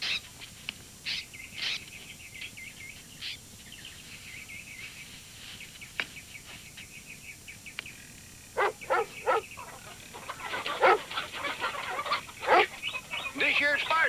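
Firetop, a herd dog, lets out scattered barks that grow busier and louder over time on a farm. Clucking chickens and people talking are mixed in underneath.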